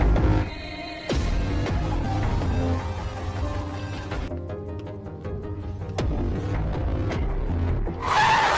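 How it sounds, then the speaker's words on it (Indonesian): A car skids with a screech of tires in a film scene, a short sharp burst over dense cinematic music and effects, loud and close throughout. "Sampai wanita itu tak sengaja tertabrak mobil"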